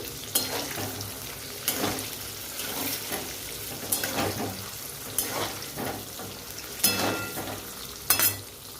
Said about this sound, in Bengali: তো আলুটা ভাজার জন্য দিয়ে দিয়েছি কড়াইতে এখানে একটু হলুদ দিয়ে দিচ্ছি কালার হওয়ার জন্য